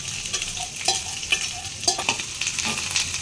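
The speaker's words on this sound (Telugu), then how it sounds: "ఆనియన్స్ బ్రౌన్ అవుతాయి కదా, అప్పటి వరకు వేయించుకోవాలి" Onions frying in a pan for egg bhurji, a continuous close sizzle broken by repeated scraping stirs of a spatula, fairly loud with no voices.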